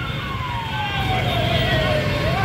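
Fire engine siren wailing on the way to a fire in traffic, a loud continuous rising and falling tone close by over a rumbling engine and road noise.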